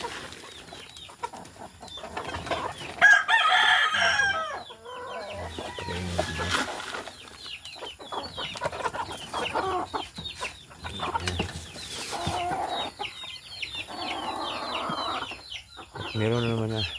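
Backyard chickens and roosters cluck and call continuously at close range, with occasional crowing mixed in and a person talking intermittently over the flock.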